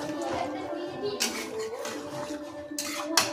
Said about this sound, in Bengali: খুব সুন্দরভাবে মাংসটা কষিয়ে নেব।